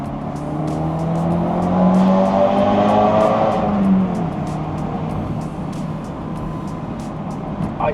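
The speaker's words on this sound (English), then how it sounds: "Maybe the exhaust does sound good. It's just like not as loud as what I'm used to." A Ford Focus RS engine hums steadily while driving on a highway, with a low exhaust drone that swells briefly as it accelerates, then settles into a moderate, even cruise.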